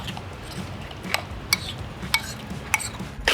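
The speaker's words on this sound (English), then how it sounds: "Now for our sauce, just mix that until it's combined." Chopped pickle is stirred into burger sauce, and a utensil clinks against the bowl in a handful of sharp, irregular taps over a quiet background.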